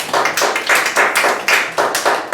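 A church congregation claps together in acclaim of the Lord, loud irregular bursts of many hands in quick clusters, close and lively, with no voices over it.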